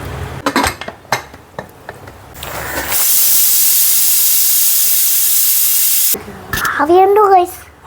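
Steady, loud hiss of steam pouring from a pressure cooker holding chicken for biryani, lasting about three seconds after clinks of pots and utensils, then cut off as a voice starts talking.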